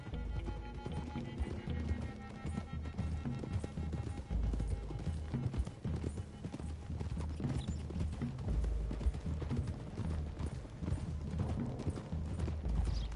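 Horse hooves clip-clop at a steady trot in Red Dead Redemption 2, a continuous rhythmic thudding on a road heading into hills, with tack rattling, a low game soundtrack and no speech on top.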